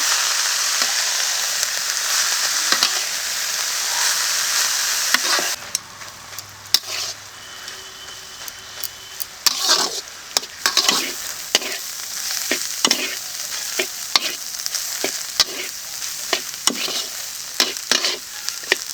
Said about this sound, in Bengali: দিয়েছি লবণ দিয়েছি হলুদ গুঁড়ো এখন ভালো করে ভেজে নেব